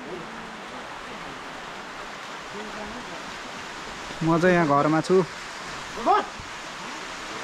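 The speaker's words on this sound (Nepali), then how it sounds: "पानी पर्नु थाल्यो अब चाहिँ" Rain beginning to fall over a Nepali village makes a steady, even hiss throughout, while someone speaks briefly over it.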